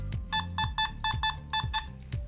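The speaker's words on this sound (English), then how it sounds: "And it sounds like this in park mode." A series of short electronic beeps from a Nokta metal detector in park mode, in a steady rhythm, about eight quick tones in a row over low background hum.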